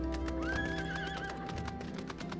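A horse in Final Fantasy XIV neighs in a long, clear whinny over a background of game music, with faint hoof clip-clop alongside.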